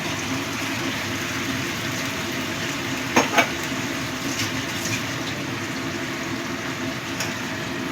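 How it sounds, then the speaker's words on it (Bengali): Spice paste is stirred and fried in a pan for a Bengali pabda fish curry, giving a steady, soft sizzle with a couple of brief scraping clinks partway through, heard alone without voices. "এবার মশলাটা কষাতে থাকবে।"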